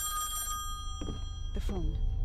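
An old telephone bell rings in the video game Song of Horror, set in the Husher mansion. One sharp ring comes close and loud, followed by a voice talking over the quieter background.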